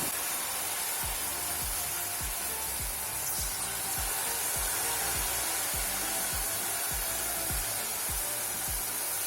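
Batter-dipped cashew clusters (munthiri kothu) deep-fry in hot oil, producing a steady, fairly faint hiss that runs throughout, with soft, evenly spaced low thumps beneath it.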